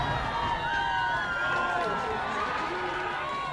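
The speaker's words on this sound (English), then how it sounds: "And this Rancho crowd making a lot of noise here tonight." The Rancho home crowd at a night high school varsity football game, Santiago at Rancho Alamitos, keeps up a loud, continuous roar of cheering and noise while a commentator talks over it.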